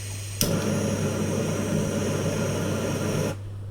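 A Jetboil Flash 2.0 gas stove burner igniting with a sharp click, then a steady loud roaring hiss of gas flame that holds for about three seconds before cutting off abruptly, close and alone.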